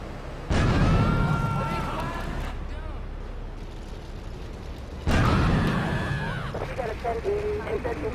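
Two heavy grenade explosions in Grand Theft Auto III, each a sudden loud boom with a long rumbling decay, the second about four seconds after the first, while someone talks.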